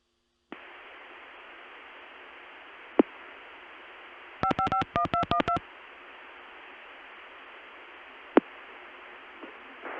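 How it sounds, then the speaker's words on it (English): Rapid series of telephone DTMF dialing tones, about a dozen short beeps in quick succession over a steady line hiss on an early-1980s oil company telephone network, with faint clicks before and after. "I'll dial the rest of the number to get us the recording."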